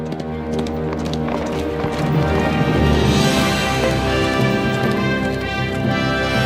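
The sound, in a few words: horses in video game Kingdom Come Deliverance 2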